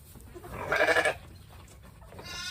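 A single loud, nasal bleat from a ram close by, lasting under half a second, followed by quieter rustling background.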